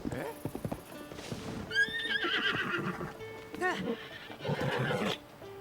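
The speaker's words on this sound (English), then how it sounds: "I brought a large horse." A large horse in Zelda: Tears of the Kingdom gives a loud whinny amid hoof clip-clops, with game music and a person talking alongside.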